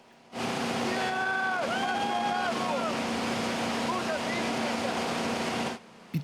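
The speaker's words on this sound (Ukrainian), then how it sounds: "Катер на швидкості створюватиме хвилі, які нагадують морські." A motorboat engine drones steadily while speeding and making surf waves, with water rushing and wind buffeting the microphone, loud and close throughout.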